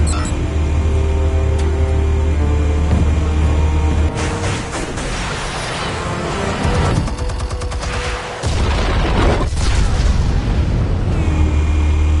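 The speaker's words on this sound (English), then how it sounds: "Explosives armed. Fire when ready." Armed explosives go off in a PS4 game as loud, rumbling booms over a continuous dense background of music and effects.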